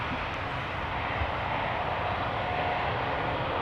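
An EasyJet Airbus A320neo's jet engines roar steadily on a Polderbaan departure at Amsterdam Schiphol, a dense, even rumble heard from outside at moderate distance, with no voices.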